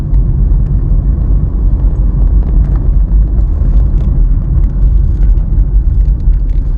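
A car engine labours uphill at low revs under 2000 rpm, a loud, steady low rumble and drone that holds throughout with no talking.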